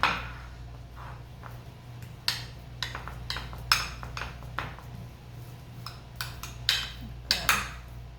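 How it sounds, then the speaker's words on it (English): A spoon scrapes and taps as it presses a strawberry oat bar mixture flat in a pan, giving a string of short, close clinks and scrapes at an uneven pace over a low steady hum, with no talking. "you keep using your spoon to flatten it out"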